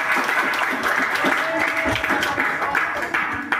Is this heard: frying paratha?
no